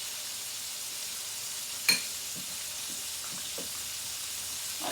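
Chicken fillet for a homemade burger frying in a pan over raised heat, giving a steady close sizzle throughout with one brief sharp clatter early on and a few soft stirring touches.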